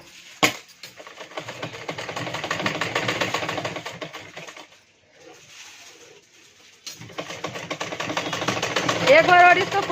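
A sewing machine stitching a blouse runs in two steady whirring bursts, loud and close, with a pause between them; someone talks over the machine.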